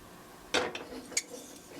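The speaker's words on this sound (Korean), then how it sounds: "이렇게 저으면서 살살 저으면 가끔가다 한 번씩 저어줘도 돼요." A spoon stirs condensed milk in a pot over low heat, giving a few sharp metallic clinks and light scrapes against the pot at irregular intervals.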